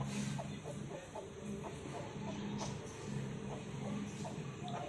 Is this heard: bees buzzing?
no